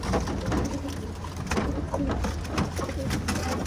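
Several pigeons coo softly and repeatedly close by on a balcony, with a faint rustling background and no speech.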